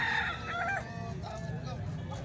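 Roosters crow in quick succession, one near call opening strongly and fading, followed by fainter distant crows over a constant yard hum.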